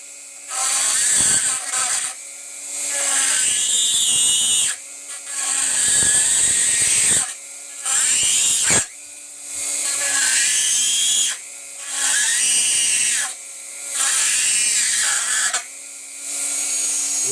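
Dremel rotary tool cutting stainless steel pieces with a little cutting oil, a high whining grind in repeated bursts of a second or two, separated by short pauses as the tool lifts off, loud and close.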